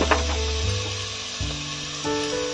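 Paneer being stirred with spices and a little salt in a pan, a steady scraping and rubbing of the spoon with a soft sizzle, close and alone.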